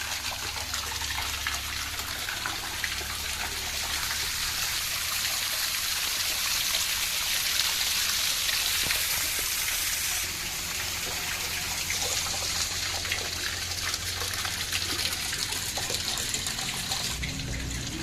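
Steady rushing and splashing of water draining out of a concrete fish pond, continuous and fairly loud throughout, with no voices.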